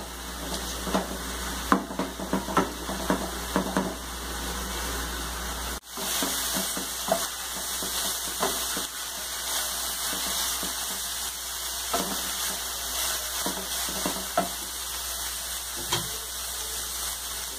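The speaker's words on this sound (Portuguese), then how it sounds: "Deixa o fogo alto. Ela frita mais rápido." Food frying in a pan over high heat with a drizzle of olive oil, a constant loud sizzle and hiss throughout, with occasional stirring scrapes and small pops, no voices.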